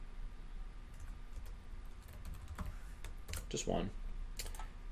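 Computer keyboard keys clack in short irregular bursts, a few quick deleting taps close to the microphone, with a voice talking briefly between them.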